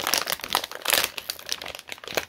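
Crinkly plastic Reese's candy wrapper being handled and torn open close up, a series of sharp crackling bursts with no talking.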